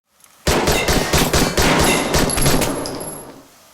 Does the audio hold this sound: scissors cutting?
no